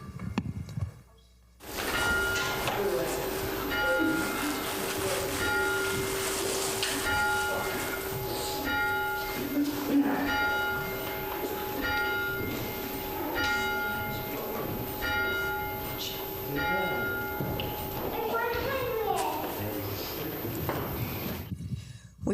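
A church bell rings repeatedly to open a Sunday service, steady strokes with long ringing overtones filling the room for about twenty seconds, loud and clear with no talk over it, fading out at the end.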